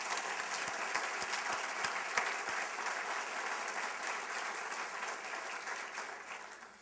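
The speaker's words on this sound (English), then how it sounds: "I think she deserves a special round of applause" Audience at a college address applauding a colleague's achievement, sustained clapping with a few sharp distinct claps early on, heard from a distance and fairly faint, tapering toward the end.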